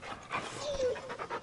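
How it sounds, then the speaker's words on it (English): A dog pants in the video game Final Fantasy XVI, a short run of quick breathy huffs up close, with a voice speaking over it. "Good puppy."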